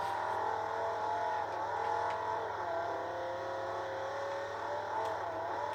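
A Viper race car engine in Forza Motorsport 4 drones steadily at a sustained whine, rising and dipping slightly as the car laps a circuit, moderately loud and alone.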